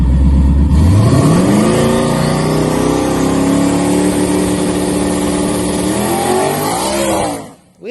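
A twin-turbo car with a 6R80 transmission revs hard, its loud engine note sweeping up, holding a high, strained pitch for several seconds, then dropping away sharply at the end.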